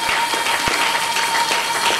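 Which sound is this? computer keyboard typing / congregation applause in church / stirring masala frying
congregation applause in church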